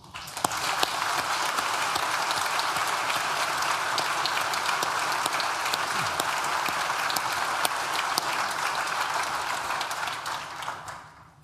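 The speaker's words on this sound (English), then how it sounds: "please join me in thanking them with a well-deserved round of applause" Graduation ceremony crowd at an art and design school gives a long, sustained round of applause, a dense even wash of clapping from a large hall with occasional sharper claps standing out.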